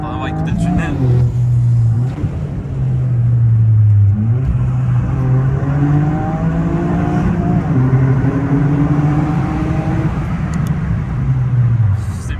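Toyota Yaris GR fitted with a cat-back exhaust revs inside a tunnel, a loud, steady engine drone rising and falling in pitch across the clip, with reverberant rumble and people talking over it.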